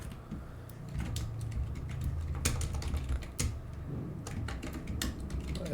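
Typing on a computer keyboard: rapid, irregular clusters of sharp key clicks, close and clear over a low steady background hum, with no talking.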